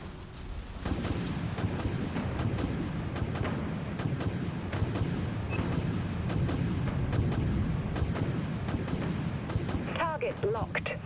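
In the game Dreadnought, an enemy destroyer blows apart amid a continuous barrage of heavy booms and rumbling explosions, repeating at a steady beat for about ten seconds, with crackling debris near the end.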